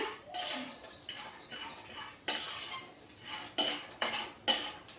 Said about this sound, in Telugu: ఈ పల్లీలను మంచిగా వే వేయించుకోవాలండి అప్పుడే టేస్టీగా వస్తాయి